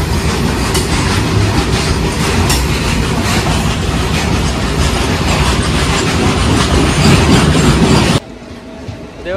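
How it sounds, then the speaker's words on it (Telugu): A Guntakal passenger train roars past close by near a stop, loud steady rumble and clickety-clack of wheels for about eight seconds before cutting off abruptly. "తుంగకద్ర స్టాప్ దగ్గర గుంతకల్ ప్యాసింజర్"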